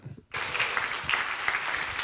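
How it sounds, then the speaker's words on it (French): A conference audience at a developer event bursts into applause after a brief moment of talk, the clapping starting abruptly and continuing densely and loudly to the end. "vous pouvez l'applaudir"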